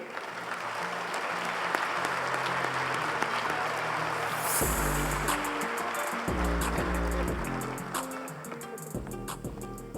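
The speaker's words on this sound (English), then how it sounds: "Let's give a big round of applause for the Girls Team of the Year." An audience at a high school sports awards ceremony in Arizona applauds the girls team of the year, sustained crowd clapping with a thick, even texture while music plays alongside.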